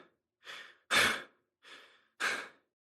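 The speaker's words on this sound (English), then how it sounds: "Jinho was gasping for breath." Four ragged breaths come one after another, alternating softer and stronger, close and fairly quiet with silence between them, like a person gasping for air after exertion.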